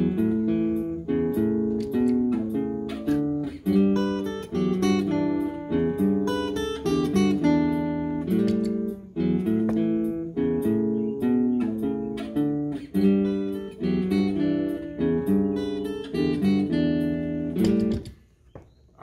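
Looped electric guitar layer with effects for a song; a continuous stream of ringing picked notes and chords in a steady rhythm, close and clear, ending abruptly near the close.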